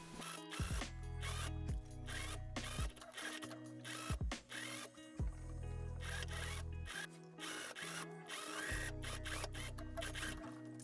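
A sewing machine stitching fabric for a mini wedding dress, with several bursts of fast, rhythmic mechanical whirring and clatter separated by short pauses and handling noises, close up and with no talking.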